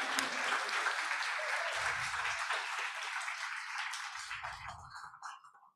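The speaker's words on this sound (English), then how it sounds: "we just give you one more round of applause" Audience applause after a poetry reading, a dense sustained wash of clapping from a crowd that carries steadily for several seconds and then thins and fades out near the end.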